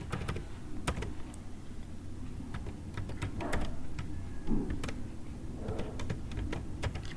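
Keys clack steadily on a computer keyboard as a GST number is typed into Tally accounting software, irregular close taps over a low constant room hum, with no one talking.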